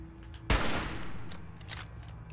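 Gunfire in the video game Fallout 4: a sudden loud blast cuts in after a short pause, followed by a rattling burst and a decaying echo.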